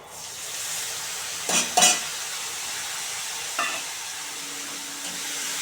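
Prawns frying in a pan, a steady close sizzle and hiss with a few brief scraping stirs of a spoon against the pan.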